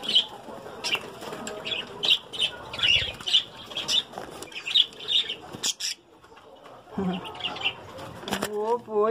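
Budgerigar flapping its wings in flight indoors, rapid bursts of close fluttering wingbeats mixed with chirps and squawks, pausing briefly before more flapping, with a person talking in the background.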